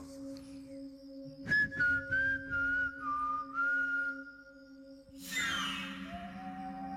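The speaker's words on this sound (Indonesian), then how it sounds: "Aku coba kembali bersiul." A person whistles a slow, wavering melody of several sustained notes over a steady electrical hum, followed by a burst of rustling noise.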